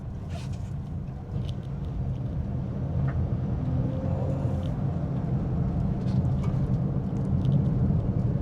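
Steady low road rumble and engine drone from inside a 2025 Honda Brio with a CVT automatic while driving, a continuous moderate hum with faint interior rattles and no talking.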